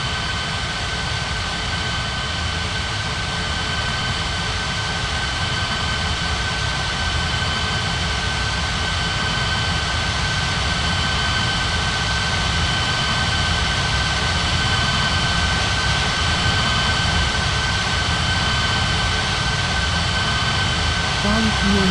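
A jet airliner takes off in the air traffic control game Unmatched Air Traffic Control at Ngurah Rai Bali: a loud, steady jet engine roar with a low rumble and a thin high whine, holding constant for over twenty seconds.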